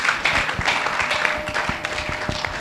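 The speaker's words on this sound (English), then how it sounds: "I think we can clap more." An audience in a hall applauds after an official speech at a government event on paying pensioners of defunct agencies, a brief, steady patter of many hands clapping, moderately close and sustained for a few seconds.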